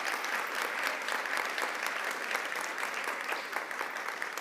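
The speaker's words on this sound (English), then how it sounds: "a round of applause for this very high-achieving group" A room full of people at a university graduation ceremony claps steadily and continuously, a dense even applause with no voices standing out.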